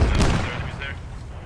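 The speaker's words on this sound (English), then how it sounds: "T-72 is cooking off" T-72 tank ammunition cooking off in a tank battle game: a dense, rumbling crackle of rapid small detonations at the start that settles into a lingering roar, with a faint voice over it.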